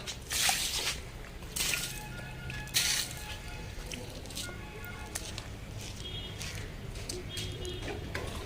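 Water is tipped onto the soil of a pot holding a freshly replanted plant, giving close, wet squishing and dripping with a few sharper splashes, then softer trickling and drips.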